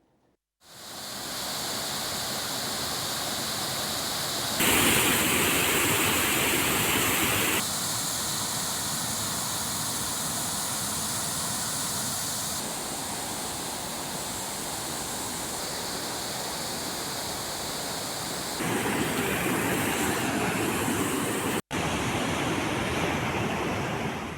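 Flash-flood torrents pour over the Bhima waterfall in the hills after heavy rain, making a loud, continuous, roaring rush of water that surges slightly now and then, with no voices.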